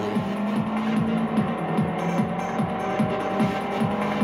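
A car in the Test Drive Unlimited racing game, a steady engine hum with a repeating rhythmic pulse about twice a second, close and moderately loud with no talk.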